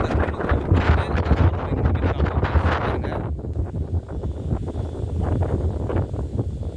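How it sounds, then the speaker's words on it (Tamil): Strong wind gusting on Parvatamalai mountain near Thiruvannamalai, a loud continuous roar buffeting the microphone, heavy throughout with slight easing midway. "நல்லா காத்தடிக்குது"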